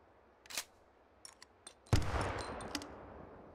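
A hand grenade goes off in the VR shooting game Hot Dogs, Horseshoes & Hand Grenades: a few soft clicks, then one sudden loud boom with a rumbling tail that fades slowly. No one speaks.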